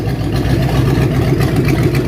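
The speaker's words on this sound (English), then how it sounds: "That's a really good little engine." A small engine in a 1967 Ford Mustang with a mild cam idles steadily and loudly up close, a continuous low rumble with a slightly uneven, lopey pulse and no voices.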